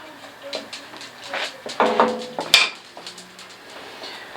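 A spoon stirs chicken corn chowder in a pot, with pepper just added. Soft scraping and a few metallic clinks come in uneven bursts close by.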